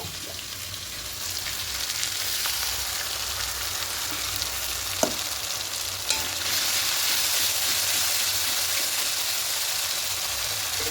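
A paste of melon seeds, cashews, poppy seeds and white sesame fries in a pan at steady medium loudness, with occasional stirring clicks and scrapes and no voices.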